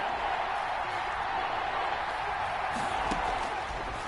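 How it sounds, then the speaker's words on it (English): Steady, dense roar of a stadium crowd in the Madden NFL 21 video game during a Patriots versus Dolphins match, a continuous loud wash of cheering with a few faint whoops. "That just means this crowd's going to get even louder"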